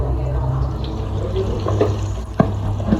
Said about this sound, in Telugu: ఇలా కలుపుతూ కొంచెం ఒక 2 మినిట్స్ అట్లా ఆయిల్లో ఇలా వేపేసుకున్న తర్వాత పేస్ట్ చేసుకోవాలి